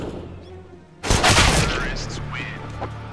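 Pistol shots ring out in a Counter-Strike: Global Offensive match: after a quiet second, a sudden loud burst of close gunfire starts, followed by dense, overlapping shots and echoes, with a voice talking underneath.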